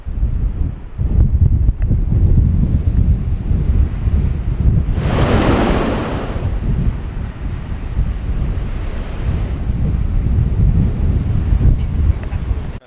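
Air rushes out of blowholes in the rocks at Blowhole Beach, a loud roaring surge lasting a couple of seconds over constant surf and heavy wind buffeting, followed by a weaker second gust.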